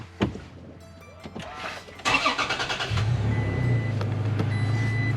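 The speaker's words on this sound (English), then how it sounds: "I'm gonna go ahead and start the car" A 2017 Toyota Tacoma pickup truck cranks with a rapid chattering starter whir and catches, settling into a steady idle, preceded by clicks and a chime inside the cab.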